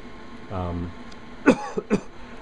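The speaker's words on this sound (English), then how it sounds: "I start coughing when I come in close like that" A short vocal sound followed by a few sharp coughs close by, two or three quick bursts in a row.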